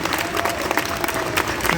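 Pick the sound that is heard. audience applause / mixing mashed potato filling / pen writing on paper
audience applause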